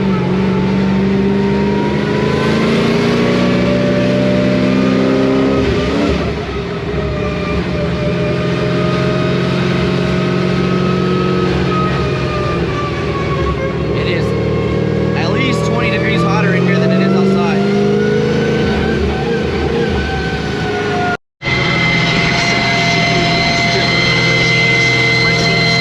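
An 800hp Pontiac GTO with welded rear and sticky tires rumbles loudly through a street drive, its engine note steady with harmonic drone and rising revs, a brief cut near the end.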